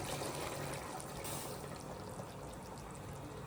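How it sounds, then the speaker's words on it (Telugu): Faint, steady rush of hot water being poured into a pot of mutton pulao, a soft continuous splashing hiss with no voices. "ఇప్పుడు మనం వేడి వాటర్ పోసుకున్నాం."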